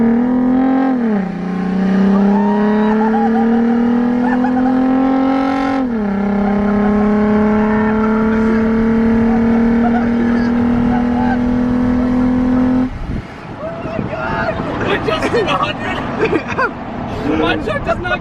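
Supercharged pickup truck on hot laps, its engine note rising and dropping through gear shifts for about thirteen seconds, loud and close, then cut to a noisier stretch with wind and mixed sounds. People talk faintly in the background.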